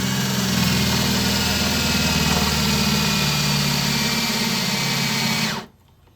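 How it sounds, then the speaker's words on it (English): A power drill drilling out a bolt whirs steadily and loudly for several seconds, with a rattling grind, then cuts off abruptly into quiet. "Go ahead and drill it out."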